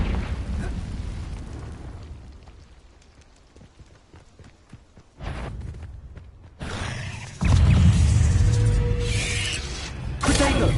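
Confringo fire-spell blasts in the video game Hogwarts Legacy erupt as sudden loud booming bursts after a quieter stretch of in-game ambience and footsteps, then roar on at high volume.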